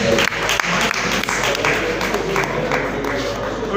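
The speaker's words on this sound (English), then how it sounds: "Let's give her a round of applause" An audience at a live-streamed talk gives a round of applause, a loud, dense clatter of many hands clapping together, close and continuous from start to finish.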